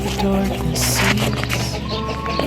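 Chickens clucking in a rural Thai yard as they are fed rice and ground feed, busy close clucks mixed with scratching and patter, with someone talking over them.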